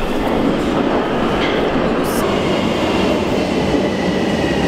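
Munich metro subway train running underground, a loud continuous rumble and rattle of the carriages filling the whole clip with no speech over it.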